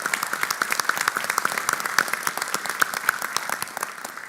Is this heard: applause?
yes